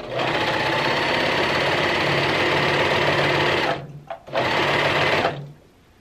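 A serger stitches a stretched neck band onto a garment, running as a loud, steady mechanical whir that cuts off briefly near the end, restarts for a second burst, and then stops.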